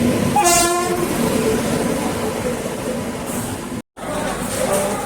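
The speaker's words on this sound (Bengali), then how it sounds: "finally Howrah গলিয়ার Chambal superfast express দু নম্বর প্ল্যাটফর্মে দিয়ে দিয়েছে আর চলে এসেছে" The Chambal Superfast Express pulls into a platform at Bardhaman station, its horn blaring briefly near the start before a rumbling, rattling roll of carriages continues close by.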